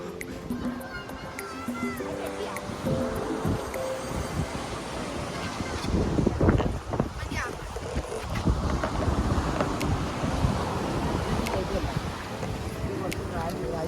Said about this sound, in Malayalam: കാറ്റ് കുറച്ചുണ്ട്.